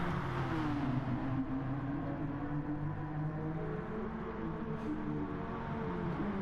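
Sportscar engines in a sim racing game at Fuji drone continuously and loud. Their steady revving whine rises and falls slightly as the cars run close together.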